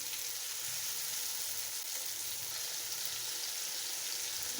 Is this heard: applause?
no